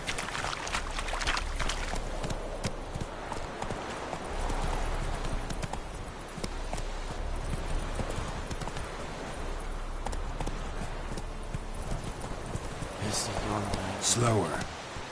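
Geralt's horse galloping in The Witcher 3: Wild Hunt, hooves clip-clopping in a fast steady rhythm over ambient outdoor game sound, with a voice urging the horse on.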